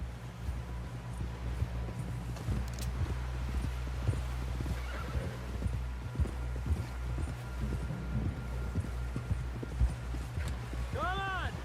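In Red Dead Redemption 2, a horse's hooves clip-clop in a steady rhythm along with snorts and a whinny near the end. A low rumbling game score plays underneath, and people talk over it.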